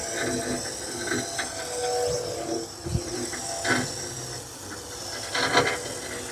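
A truck winch ratchets and grinds steadily as it pulls a 1965 Chevy C10 pickup into a shop, a continuous mechanical clicking and rubbing drone with a few louder clanks, fairly close and without talk.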